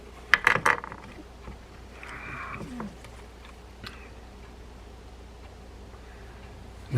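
A broken spinning fishing reel being taken apart gives a few sharp clicks and ratcheting rattles of small metal parts up front, then scattered faint ticks and scrapes against a quiet background.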